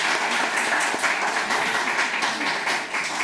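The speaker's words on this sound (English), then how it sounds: "Once more, a huge round of applause," Sustained, loud audience applause at a women achievers awards event, many hands clapping together in a dense, continuous roar from start to finish with no speech.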